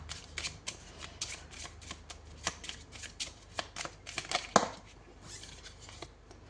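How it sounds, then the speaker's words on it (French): Tarot cards being shuffled and drawn by hand, a close, continuous run of riffling and flicking card snaps with no talking. "on va tirer une deuxième carte pour savoir un petit peu plus"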